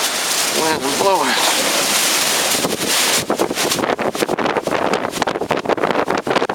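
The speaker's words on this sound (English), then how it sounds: "Wind's blowing." Gale-force wind gusts hard against the microphone, a loud rushing roar that turns choppy and buffeting in the second half, with a brief voice heard early on.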